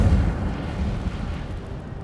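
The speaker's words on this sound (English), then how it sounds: "Expelliarmus. Incendio." A fire spell cast in the Hogwarts Legacy video game bursts out as a loud, low roaring whoosh and rumble that holds steady for about two seconds, with no talking over it.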